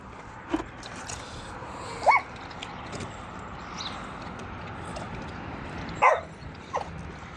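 Mastiff dog, with its puppies nearby, gives a few short yips and whimpering barks spread out over a steady background hum, fairly close, with no talking.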